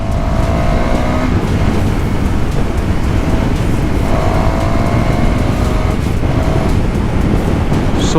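A motorcycle engine revs and pulls hard while the bike accelerates on a ride. The engine note rises in steady surges and stays loud and close throughout, with strong wind rush over it.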